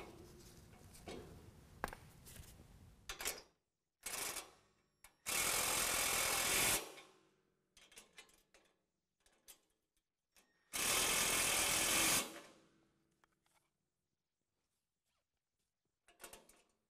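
Tightening the fender bolts while assembling a DK2 Mighty Multi Utility Trailer: two loud, sustained buzzing tool bursts of about a second and a half each, separated by quieter clanks and handling noise.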